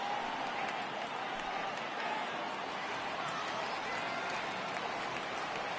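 Crowd cheering at a baseball game in a PS4 video game, a steady, continuous roar of many voices and clapping filling the whole stretch at moderate level.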